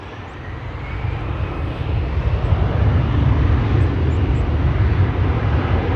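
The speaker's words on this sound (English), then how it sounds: "First plane about to land on a reopening runway 22" A passenger plane comes in to land on runway 22 at Schiphol Airport, its broad engine roar steady and gradually swelling as it nears, with no voices over it.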